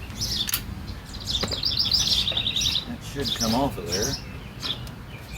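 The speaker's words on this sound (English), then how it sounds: "Boy, aren't the birds noisy today?" Birds chirp and tweet in quick, high bursts close by, while someone talks briefly over them.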